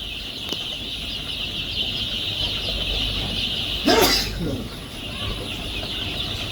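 Colour bird chickens on a farm cluck intermittently under a steady background hum, with a brief rustling burst of wing movement midway while people talk nearby.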